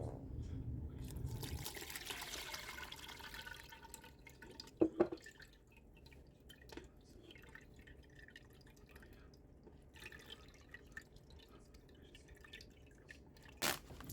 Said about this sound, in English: Next step is to strain your apples.